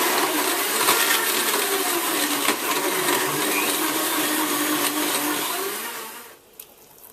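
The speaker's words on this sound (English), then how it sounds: "Blend this on medium for 30 seconds" Kitchen blender on medium speed whirring through yogurt, berries and ice for a smoothie, a loud steady churning roar that winds down and stops near the end.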